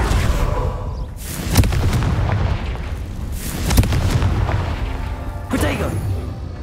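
Confringo blasting-spell explosions in the game Hogwarts Legacy: three heavy booming blasts about two seconds apart, each with a sharp crack and a rumbling tail, over a continuous layer of game noise.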